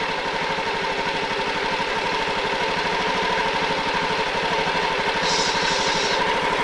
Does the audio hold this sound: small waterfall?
no